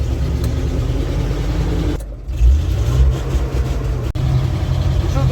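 A vehicle loaded with firewood pulls slowly out onto a central road, its engine rumbling low and loud throughout, with a brief lull and a sharp knock partway through.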